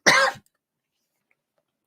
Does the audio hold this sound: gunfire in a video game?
no